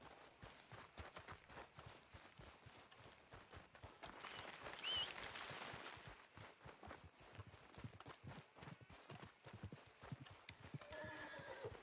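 Horse hooves clip-clop steadily in Red Dead Redemption 2 with a loud neigh in the middle, the hoofbeats continuing at a walking-to-trotting rhythm throughout.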